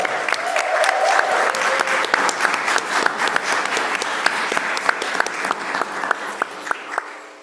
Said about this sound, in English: A big round of applause to our families